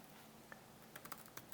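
Several quick, soft keystrokes on a computer keyboard while typing a search, a short irregular burst of clicks that is faint and close.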